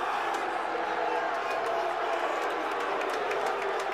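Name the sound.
baseball stadium crowd cheering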